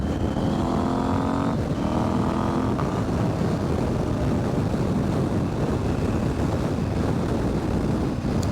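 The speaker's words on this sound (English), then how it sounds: "Sounds cool, quick shifter." A KTM 790 Adventure motorcycle revs hard and snaps through quick-shifter gear changes, engine note stepping up in pitch with brief breaks between gears, then a loud steady roar buried in heavy wind rush.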